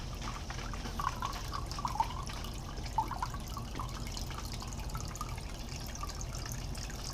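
Water trickling steadily from an aquarium filter into a snail tank, a faint continuous splash with occasional tiny drips.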